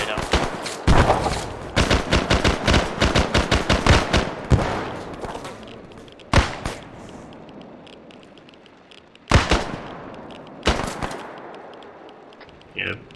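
Arma 3 gunfire during a zombie operation, with rapid bursts of automatic rifle fire followed by scattered single loud shots and cracks, near and sharp, with players talking at times.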